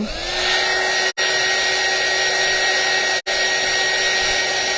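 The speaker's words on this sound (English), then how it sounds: "I'm wondering if I can use my heat gun" A heat gun blows hot air onto wax on fall decor in a steady, close, loud roar, cutting out for two very brief moments.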